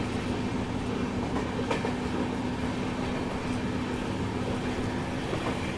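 Bangalore Rajdhani express train running on the rails on the Nagpur route in summer, a steady loud rolling rumble with a constant mechanical hum and faint wheel clatter throughout, no voices.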